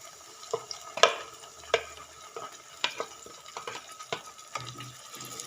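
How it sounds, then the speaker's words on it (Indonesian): Ground chili sautéing with shallots and garlic in a pan for egg balado, irregular scraping and tapping stir strokes over a quiet, soft sizzle, close by with no voices. "kita tumis lagi sampai dia mengeluarkan minyak, sampai matang ya cabenya."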